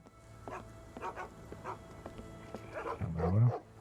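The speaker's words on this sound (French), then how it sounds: "on entend des chiens" Dogs in the Sherlock Holmes: The Awakened video game, heard near a floating cabin in a fishermen's quarter of New Orleans, give a few scattered barks and whimpers, swelling into a louder, closer bark near the end.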